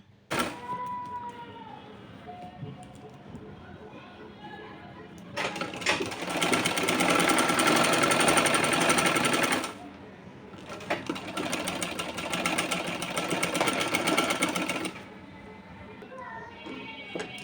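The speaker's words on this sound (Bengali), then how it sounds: "মিডিল থেকে আমি সেলাই করে নিচ্ছি" A sewing machine stitches a zipper onto the front of a kameez in two long continuous runs, loud and steady, with brief quieter pauses between them and a soft voice faintly under the motor.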